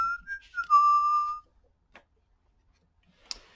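A man whistles a short cheerful tune, a few clear rising and falling notes followed by a long held note, then silence broken by a couple of faint clicks.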